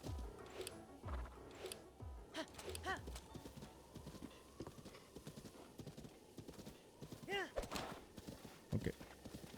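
A horse galloping in The Legend of Zelda: Breath of the Wild, with steady rapid hoof clip-clop and a couple of whinnies, under someone talking over the game.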